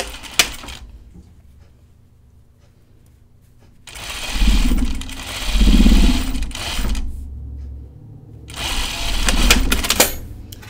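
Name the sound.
sewing machine stitching a French seam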